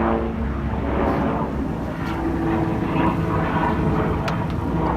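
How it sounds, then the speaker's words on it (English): A low, steady rotor-engine drone from a military helicopter passing overhead near Camp Pendleton, San Diego, continuous and fairly loud throughout with no talking. "And we got a military helicopter going overhead."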